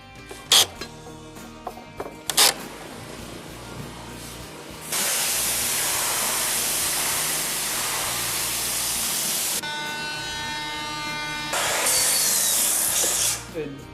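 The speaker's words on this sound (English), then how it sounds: "right now we bring it here into our workshop and we're sanding it" Rough reclaimed wood being sanded in a workshop, a steady broad hiss from a power sander running for several seconds, pausing briefly and then resuming, preceded by a few sharp knocks and tool clatter.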